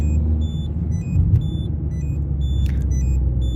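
A Peugeot 301 car accelerating, its engine a steady, loud low rumble throughout with faint high tones above it.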